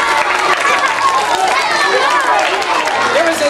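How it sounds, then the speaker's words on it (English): A school audience at an elementary school show claps and cheers after a cut-and-restored rope magic trick, loud and steady throughout, with excited voices and shouts mixed into the applause. "That's a big applause cue."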